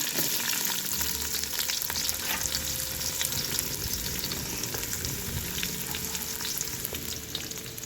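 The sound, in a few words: onions frying in oil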